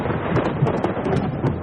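Rain and thunder sound effect: a steady wash of rain with a low rumble of thunder beneath, loud and continuous with slight surges in intensity.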